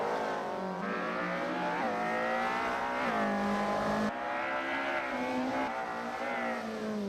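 Race cars at the Race of Champions roar around the track with continuous engine revving and rising, falling pitch as they accelerate and shift, loud and steady throughout.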